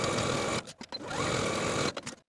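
A sewing machine runs in short bursts, stitching the center back seam of a woven tee with back stitching. The motor whirrs close and loud, pausing briefly twice before it stops.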